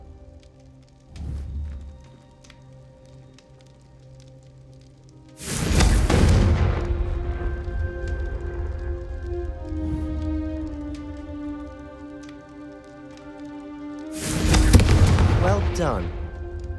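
Confringo fire spell blasts in the Hogwarts Legacy video game, two loud booming explosions with long rumbling tails, separated by a stretch of game ambience and a brief spoken voice.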